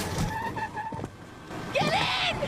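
Car tires screech in a short skid as a car strikes a man and speeds off, a rising squeal near the end following quieter rumbling and thuds.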